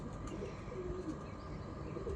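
Pigeons coo faintly at a distance, a quiet, low murmuring call almost lost in a continuous wash of outdoor background noise.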